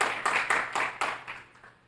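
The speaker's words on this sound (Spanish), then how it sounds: "denle un fuerte aplauso" Church congregation applause, a short burst of dense hand clapping with a few louder accents, fading out after about a second and a half.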